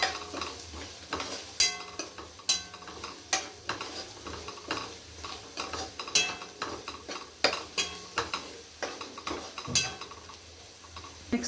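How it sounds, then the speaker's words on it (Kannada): Onions fry with turmeric in a pan for palak paneer, a soft constant sizzle under frequent sharp clinks and scrapes of a metal spoon stirring, close and fairly quiet, with no voices. "ಈ ಟೈಮಲ್ಲಿ ಸ್ವಲ್ಪ ಅರಿಶಿನ ಹಾಕ್ಕೊಂಡು ಸ್ವಲ್ಪ ಫ್ರೈ ಮಾಡ್ಕೋಬೇಕು"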